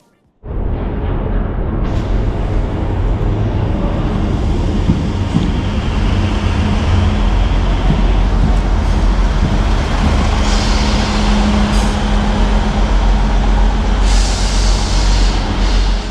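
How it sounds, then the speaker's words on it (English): A Class 159 diesel train rumbles loudly and steadily as it pulls into the station at Salisbury, with engine drone and a brief high hiss of brakes near the end. "we can take a look at the arrival of my train today"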